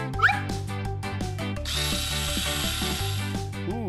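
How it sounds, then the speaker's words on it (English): A power screwdriver drives screws while a bunk bed is assembled, with short whirring bursts and then a longer steady whine, close and loud with no talking. "I got a screwdriver!"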